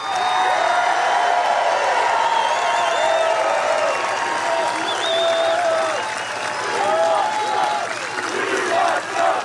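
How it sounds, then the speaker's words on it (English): A large rally crowd at a Trump speech bursts into sustained applause and cheering, a dense wall of clapping with shouts and whoops rising throughout, loud and continuous, with a few voices audible within the roar. "look at the reaction from the crowd after Trump dog whistles at them about restoring our borders"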